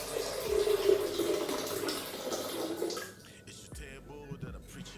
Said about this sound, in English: we start by pouring our water in the blender.